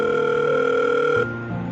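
A telephone call going through, with a steady electronic tone that cuts off and shifts into a short ringing signal, clear and alone with no voices.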